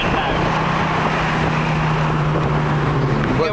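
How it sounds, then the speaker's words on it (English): A classic car's fuel-injected engine holds a steady, droning note while cruising, with a constant rush of wind noise over the top. "Barry actually said the engine note, that's a fuel injected engine note."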